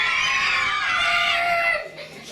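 A group of people screaming together at a school, loud and sustained for most of the clip before cutting off sharply near the end.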